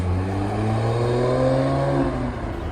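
A Porsche 996 Turbo engine runs loud and close, a steady throaty drone whose pitch climbs slightly before easing off, with no talking.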